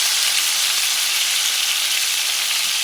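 A thick sirloin steak sears in a hot pan with a loud, close, continuous sizzle that stays even from start to finish.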